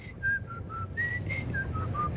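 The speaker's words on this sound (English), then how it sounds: "during a break I began to whistle" A woman whistles a short tune solo in a television studio, clear bright notes rising and falling over a soft room hum, close to the microphone.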